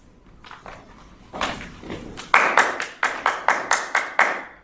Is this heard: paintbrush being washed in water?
no